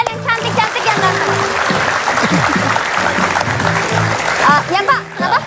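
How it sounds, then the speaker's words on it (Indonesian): Studio audience of schoolchildren applauding on an Indonesian television talk show, a loud continuous clatter of clapping beneath someone talking and some musical tones. "tepuk tangan buat kalian yang cantik-cantik yang ganteng"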